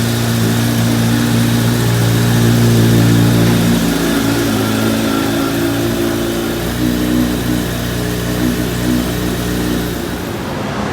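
A Kawasaki Z H2 motorcycle engine revs hard on a dyno, loud and close. The engine note holds a strong, steady rev with harmonic bands, then eases slightly toward the end, with no talk over it.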